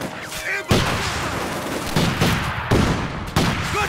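Bursts of rifle and machine-gun fire in the Company of Heroes 2 tutorial battle, several sharp loud volleys and a steady rattle, with shouting voices mixed in.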